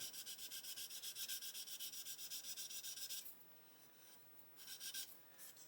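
Worn-out sanding stick rubbed on a model aircraft fuselage, a quiet close rhythmic scratching in fast even strokes that pauses briefly and then resumes.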